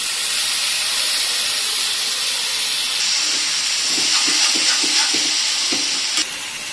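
Tomatoes added to a hot frying pan for a raw banana curry, a steady loud hiss of oil turning into brighter sizzling with a few soft stirring taps near the end.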